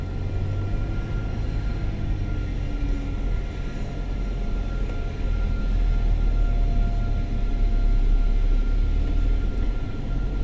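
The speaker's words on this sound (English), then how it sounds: "You can hear the engines running on that one." Parked aircraft with engines running at East Midlands airport give a steady low rumble and whine, heard from a distance inside a moving vehicle with constant road noise.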